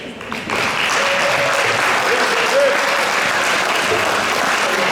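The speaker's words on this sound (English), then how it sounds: "Give it a good cheer." An audience at a school board meeting bursts into sustained, loud applause and cheering that holds steady for several seconds, filling the room with dense clapping.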